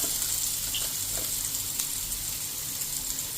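Onions and chilies frying in a pan, a steady close sizzle with faint stirring scrapes, loud and continuous with no voices.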